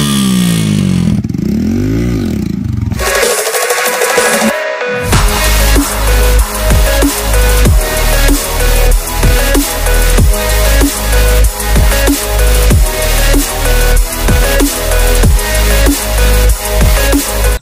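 A Suzuki Gixxer with its stock exhaust modified into an Akrapovic R6-style muffler opens with some grinding clatter, then is revved over and over. The blips are loud, close and rhythmic, with a deep throaty bark and rapid drop-offs.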